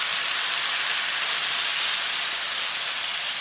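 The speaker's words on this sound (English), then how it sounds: "then pour the Marsala on top" Marsala wine hits a hot pan of chicken and sizzles hard, a loud, steady, close hiss that holds without pause.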